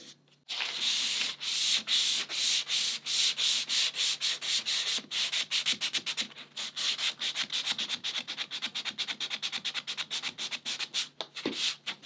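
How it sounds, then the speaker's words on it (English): Continuous close-up sanding on a 2.4mR sailboat hull at the skeg, a dry rasping scrape that turns into quick repeated back-and-forth strokes, steady and loud without any talking. "doing some sanding and some filling here and there until we're satisfied"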